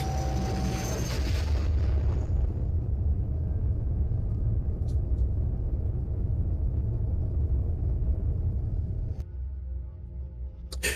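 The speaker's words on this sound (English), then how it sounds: "That was the sound of your ship leaving." A spaceship departing in a fantasy adventure story: a deep, rolling rumble swells loud and holds for many seconds, with a brighter roaring wash at the start before easing slightly near the end.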